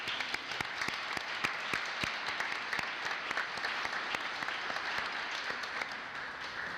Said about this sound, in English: So you need to give yourselves a round of applause for being here and helping us.